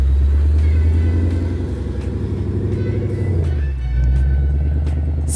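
A Ford Mustang 5.0 V8 rumbles at low speed, a deep, steady throb from engine and exhaust that dips briefly before settling back into an even growl.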